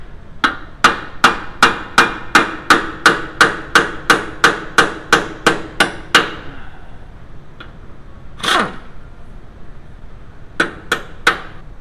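A metal hammer strikes a VW B5 Passat tie-rod in a steady run of about sixteen sharp, ringing blows, then a pause, a scrape, and three more hits.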